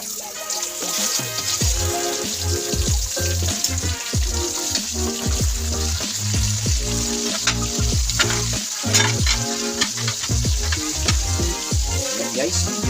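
Sliced onions sizzle and crackle steadily in a hot pan while pork steak is cooked, punctuated by scraping and clinking as they are stirred.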